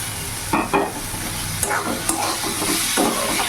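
Chopped tomato being stirred into a sizzling masala in a pan for an egg and potato curry: steady frying hiss with several scraping strokes of the spoon, close and continuous.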